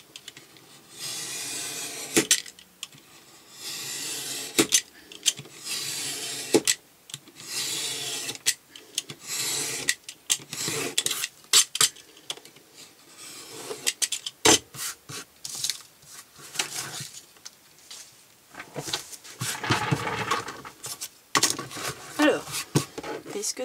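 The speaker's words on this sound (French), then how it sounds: "je vais couper. Alors il faut toujours bien garder la lame droite." A fresh blade cuts through a thin recycled metal sheet meant for a notebook cover, giving close, repeated rasping scrapes in uneven strokes with short pauses between them.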